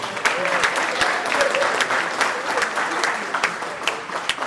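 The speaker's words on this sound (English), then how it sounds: "Give her another round of applause." Audience applauding at a fraternity chapter's 50th anniversary celebration, a steady, dense wash of clapping hands that carries evenly through the whole stretch with scattered sharper claps on top.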